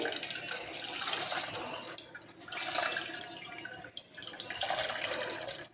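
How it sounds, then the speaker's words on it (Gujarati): Water pours and trickles steadily as whey drains away from freshly made paneer prepared from milk cream, a continuous close splashing flow that swells and eases in waves. "આવી રીતે બધું પાણી આપણે કાઢી લેવાનું છે"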